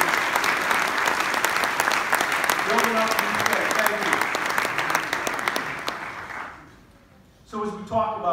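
Audience applause fills a State of the City address by the mayor, sustained clapping with scattered cheers for about six seconds before dying away, then a speaker's voice resumes.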